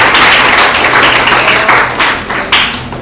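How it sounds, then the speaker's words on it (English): A big round of applause from an audience at a student digital skills program event, dense and loud clapping close by that continues throughout with slight swells, with no voices standing out. "let's give a big round of applause to our system"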